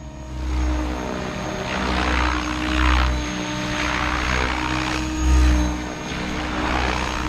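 A radio-controlled helicopter drones steadily nearby, its rotor buzz swelling and fading as it maneuvers, with no talking.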